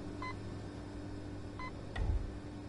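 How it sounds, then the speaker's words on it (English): Electronic beeping in the video game Apex Construct, two short tonal beeps about a second and a half apart, faint over low background hum, followed by a brief thump. "There's a beeping noise"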